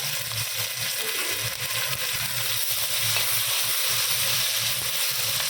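Small shallots sizzling in hot oil for a mackerel fish curry, a steady close crackling hiss with the soft scrape of stirring running underneath throughout.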